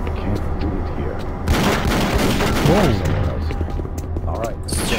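Gunfire in the shooter game Doom 3: a rapid volley of booming shots bursts in after a quieter stretch, with a voice and game sounds layered around it.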